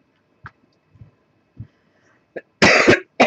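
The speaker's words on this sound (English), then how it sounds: "wow, that was a coughing fit." A woman coughs repeatedly, first in small scattered coughs and then in a loud, harsh burst of hacking, close by in a quiet room where mittens are being knitted.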